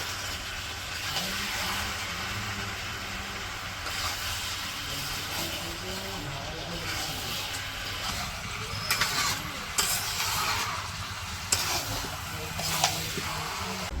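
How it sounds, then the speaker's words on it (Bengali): Chicken curry meat being stirred and fried with spices in a village-style kitchen, a continuous dense sizzle with scraping and mixing sounds, fairly close, with faint voices in the background. "এই যে মাংসগুলো ভালো করে মশলার সাথে মিশিয়ে ই করে নেব কষিয়ে নিব"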